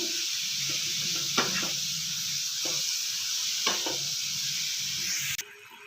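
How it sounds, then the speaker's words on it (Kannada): Sugar melting and bubbling in a pan for carrot halwa, a steady soft sizzle with a few scraping stirs of a spoon against the pan, alone and close, cutting off abruptly near the end. "ನೋಡಿ ಇವಾಗ ಸಕ್ಕರೆ ಎಲ್ಲ ಚೆನ್ನಾಗಿ ಕರಗಿ ಈ ಥರ ಕುದಿ ಬರ್ತಾ ಇದೆ"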